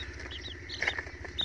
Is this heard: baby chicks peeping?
yes